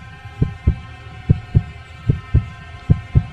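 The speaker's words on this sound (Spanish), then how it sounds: "Pero el latido crecía cada vez más fuerte" Heartbeat sound effect in a spoken horror story, a loud close lub-dub pattern of paired thumps repeating at a steady rhythm over a low hum, with no voice.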